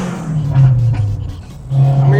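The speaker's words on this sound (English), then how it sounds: "That was a 5th gear pull at like 50 miles an hour." An 800hp turbocharged all-wheel-drive Honda Civic pulls hard in fifth gear from about 50 mph, its engine roaring loud and steady at close range with a rising drone throughout.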